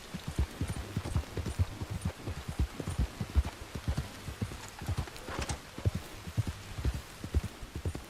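Horse hooves clip-clop at a steady walking pace through rain in a video game, a close rhythmic run of thuds over a constant hiss of rainfall, with a brief whinny partway through.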